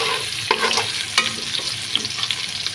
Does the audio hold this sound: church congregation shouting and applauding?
no